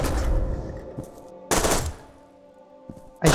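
Gunshots in FEAR 2 Project Origin: a loud burst of fire opens, followed by a sharp blast at mid-clip with ringing tails and a final shot cutting in at the end, no talking.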